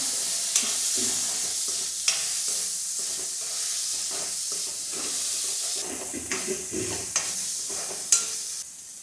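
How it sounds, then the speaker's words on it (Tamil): Chopped tomatoes sautéing in a pan over a medium flame for wheat rava kichadi, a steady sizzle broken by occasional stirring scrapes and spoon taps. "இந்த தக்காளி சேர்த்து நல்லா வதக்கிக்கலாம்."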